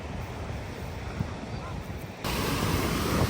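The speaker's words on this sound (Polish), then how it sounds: "Prawie mnie taka malutka fala zmiotła." Small sea waves wash against a rocky Icelandic shore, a steady close surf wash mixed with wind buffeting the microphone, growing louder and fuller toward the end.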